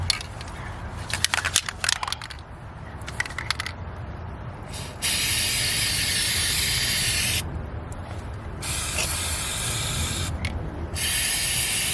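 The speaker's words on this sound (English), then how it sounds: "I'm gonna spray it on this product." Flex Seal aerosol liquid rubber sealant hisses in several long bursts with pauses between, close and loud, after some clattering and rattling handling noises.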